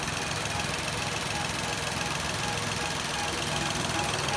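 A Datsun Go Panca car engine idles steadily nearby, a constant mid-pitched hum and low rumble holding unchanged for several seconds without any voices.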